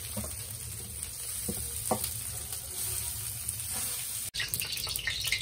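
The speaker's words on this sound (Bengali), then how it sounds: "এই চিকেন রান্না করার জন্য আমি আলুগুলো প্রথমে ভেজে নিচ্ছি।" Potatoes frying in a pan as the first step of a chicken dish, a soft steady sizzle with occasional stirring clatter and a brief splash of water near the end.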